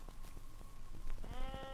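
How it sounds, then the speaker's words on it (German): Sheep bleat in a 1975 German radio play, with a few soft sounds and then a clear, wavering bleat near the end, close against a continuous farmyard background and no speech. "Das sind Schafe."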